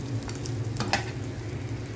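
Oil sizzles and crackles steadily as chicken skin fries in a pan, with a brief louder pop of spatter midway and no one talking.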